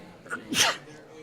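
A single sharp sneeze bursts out near the mic during a tabletop role-playing game session, a short inhaled catch followed by one loud explosive burst, with faint room background.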